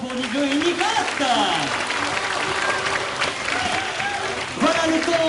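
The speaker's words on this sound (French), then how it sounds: "Un tonnerre d'applaudissements pour Niklo et Niklat." A crowd applauds the sea lions Niklo and Niklat at an amusement park show, with loud continuous clapping mixed with cheers and children's voices, and music playing underneath.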